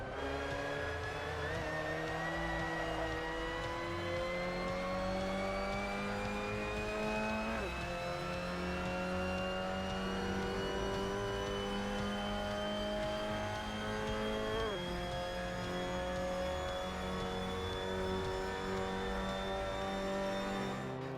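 Mazda MX-5 Cup race car lapping the Lausitzring in the Assetto Corsa video game, its engine droning loud and steady as it climbs through the revs, with two distinct gear shifts breaking the rising tone.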